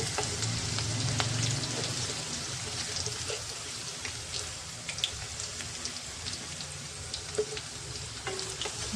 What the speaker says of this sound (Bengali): ভেজে নিচ্ছি